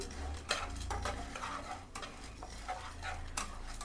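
Cumin and coriander seeds dry-roast in a pan, heard as quiet, repeated scraping strokes of stirring over a faint, soft crackle.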